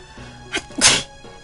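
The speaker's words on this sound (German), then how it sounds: "Warum ich niesen musste" A single sharp human sneeze from a gamer playing Lufia II, a short catch of breath followed by a loud, close burst, then quiet.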